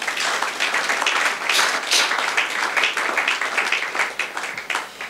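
A church congregation breaks into sustained applause, with dense clapping and cheering rising and falling for several seconds.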